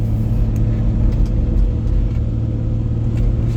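1990s Toyota Land Cruiser FZJ80 with a big exhaust, driving: a loud, steady low engine drone and exhaust rumble with a deep throb, continuous and close, with no talking.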